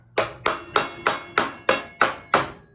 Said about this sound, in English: Hit with the brass hammer.